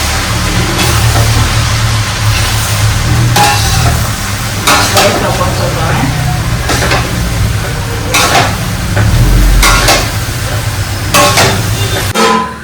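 Pav bhaji vegetables being mixed in a pan at home, a loud continuous sizzle with repeated scraping and knocking of a spoon against the pan at irregular intervals, with a low rumble underneath.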